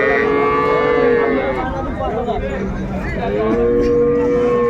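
High-yielding dairy cows and calves at a livestock market in Jessore, Bangladesh, low out two long, loud, drawn-out moos close by, separated by a brief break filled with rough, overlapping lowing and faint background activity.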